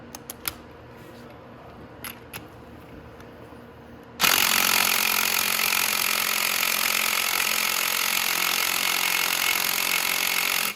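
Impact gun hammering on the 21 mm flywheel bolt of a Venom X22GT 250cc automatic motorcycle: after a few light knocks, a loud continuous rattling burst starts abruptly and runs steadily for several seconds, close and alone.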